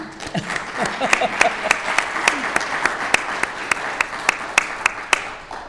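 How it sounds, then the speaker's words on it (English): Audience applause in a hall honoring a museum team, a steady wash of clapping with sharp individual claps standing out near the front, lasting throughout with a faint voice briefly underneath. "join me in a round of applause for them"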